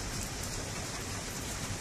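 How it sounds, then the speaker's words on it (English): Steady rain pours down, a dense, even hiss of drops hitting surfaces that continues unbroken throughout at moderate volume. "The rain is coming down with chemdraws in it."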